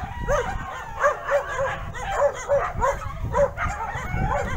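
Pet dogs at a home bark and yip repeatedly in quick bursts, a steady run of sharp, fairly loud barks with some whimpering mixed in, nearby and without talk.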